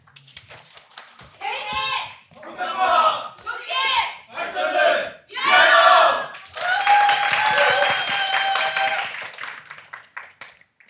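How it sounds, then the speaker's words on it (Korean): Applause from an audience at a public-sector HRD training contest final, a broad clapping wash starting in bursts and settling into a steady, moderately loud roar with some shouts and cheers mixed in. "큰 박수 부탁드립니다."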